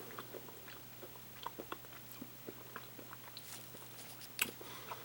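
Close, soft chewing of a small Choward's guava candy, with faint irregular crunching and squishing bites over about five seconds and no talk.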